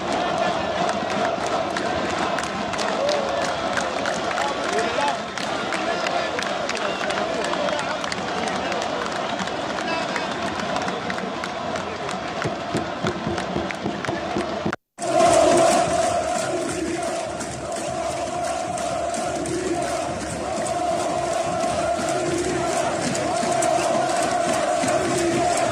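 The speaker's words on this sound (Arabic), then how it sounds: "هتفت الجماهير الجزائرية لفلسطين الغالية وللأقصى وللشهداء" Algerian football supporters in a stadium chant in unison, a dense, loud, rhythmic roar from a large crowd that continues throughout with a brief break midway.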